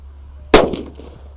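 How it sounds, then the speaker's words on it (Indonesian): A paper-wrapped colorful thunder firecracker explodes outdoors with a single sharp, loud bang that trails off in a short rumble, heard alone against a low steady hum. "ini ada mercon colorful thunder"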